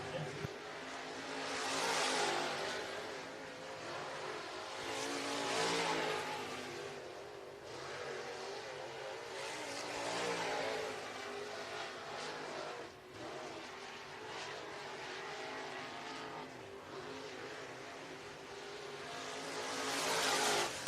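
Crate race cars lapping Pike County Speedway, a continuous loud engine roar that swells and fades as the pack passes, with no break in the noise over about twenty seconds.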